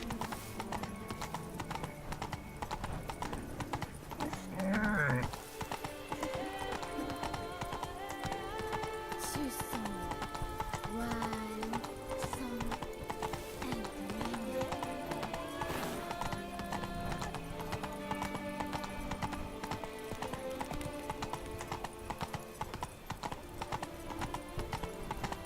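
Horse galloping in The Witcher 3, steady rapid hoofbeats running throughout under game music, with one short neigh near the start.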